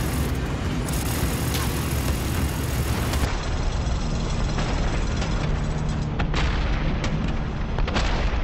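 Heavy grenade-launcher blasts in Call of Duty: Warzone, a dense barrage of loud booms and rumbling gunfire that runs continuously through the clip with no clear gaps.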